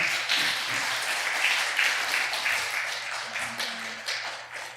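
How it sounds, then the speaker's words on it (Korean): Applause from a congregation at a pastors' choir launch ceremony in a Busan church, many hands clapping steadily at moderate volume over a low hum, tapering slightly toward the end. "박수 부탁합니다"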